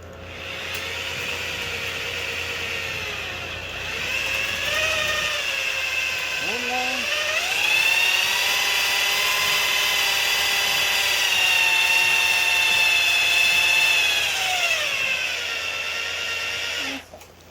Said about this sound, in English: our drill is really old, so it's pretty inconsistent about the speed